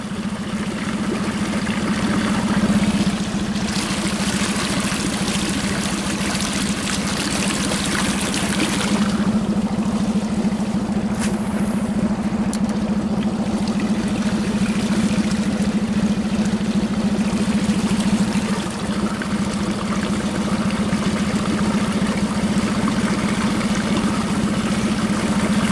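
A small outboard motor on a fishing boat runs steadily, a continuous droning hum mixed with wash and splashing water, close and unbroken throughout with no talking.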